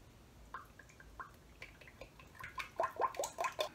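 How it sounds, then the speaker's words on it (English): Motor oil is poured into a Trailblazer SS oil pan in a garage, starting as scattered drips and glugs that build into a louder, quicker gurgling stream near the end. "Pour some oil in here."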